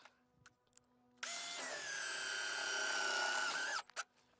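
A power drill whines steadily for about two and a half seconds, driving a sharp screw into a wooden baseboard, loud and close after a quiet lead-in with faint clicks at either end.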